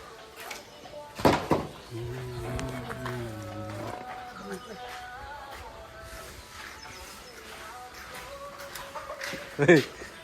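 A hen that has just laid an egg clucks repeatedly at close range on a goat farm, with rustling and scuffling noises and people talking in the background.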